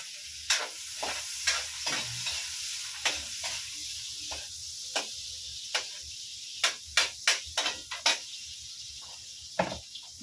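Onions fry in a pan with a steady hiss of sizzling, punctuated by a series of sharp utensil clinks and scrapes that grow busier toward the end.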